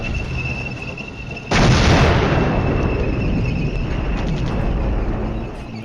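Artillery explosion in the Cold War strategy game Flashpoint Campaigns: a single sudden loud boom breaks over a quieter background, then trails off into a long rumbling decay that fades slowly.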